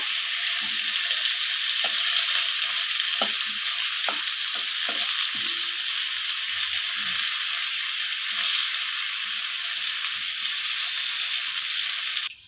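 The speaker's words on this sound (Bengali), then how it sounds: "তো ওখানে আলুটা ভাজা হচ্ছে" Potatoes fry in a pan with a steady, loud, dense sizzle that holds evenly throughout, with faint occasional ticks and bubbling underneath and no talking.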